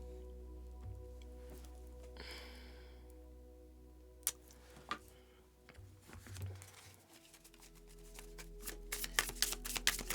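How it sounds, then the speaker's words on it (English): Soft rustling and snapping of cards being shuffled, quiet and close, with a low steady hum underneath and a faint tone in the background. "put that to the side as we shuffle these"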